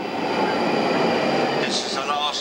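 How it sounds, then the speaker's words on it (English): A London Underground Northern Line overnight train rumbles steadily through a tunnel, loud and close, with high wheel squeals near the end; voices can be heard faintly over the roar. "This is the last northbound overnight train from the station this evening."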